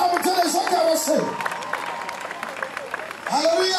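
Church congregation at a Sunday service applauding and cheering loudly to acclaim God, a dense burst of clapping and raised voices that eases off midway and swells again at the end.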